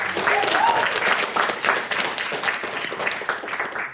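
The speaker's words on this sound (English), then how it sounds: "Give a round of applause for Dax, everyone." A student comedy society audience applauds a contestant in a lively, fairly close burst of clapping. Voices mingle with it, and it fades out at the end.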